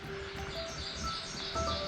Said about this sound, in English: the song we're hearing right now, I believe, is ovenbird, which is a kind of warbler